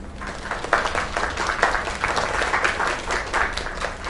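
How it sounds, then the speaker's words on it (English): Crowd applause in the video game Lake, a dense, steady wash of many hands clapping that holds at an even level throughout, with no talk over it. "Another round of applause."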